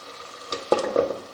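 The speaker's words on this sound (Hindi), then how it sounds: "इसको थोड़ा भूनना है ताकि जो कलर है ना वो निकले और मसाला जो है अच्छी तरह भुन जाए।" Spiced masala frying in oil in a pot for a potato and egg curry, a soft steady sizzle with a few brief scraping stirs of a spoon against the pot, close by and without talk.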